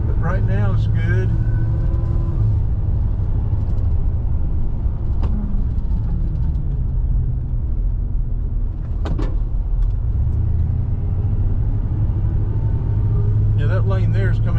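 Ram truck cruising on the I-85 interstate, a steady close engine and road rumble throughout with shifts in pitch as it changes gear, someone talking over it.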